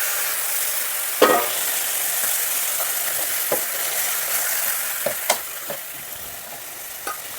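Chopped tomatoes and green chillies fry in a pan with a soft, even sizzle, while a spoon clicks and scrapes against the pan now and then.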